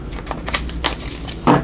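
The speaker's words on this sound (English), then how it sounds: "let me just give these a little shuffle here, mix them up" Tarot cards being shuffled by hand, close and continuous papery riffling with soft flicks, ending in a denser burst of card noise.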